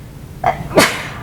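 A single sharp sneeze from one person in a meeting room, a short intake followed by a louder burst, close and alone.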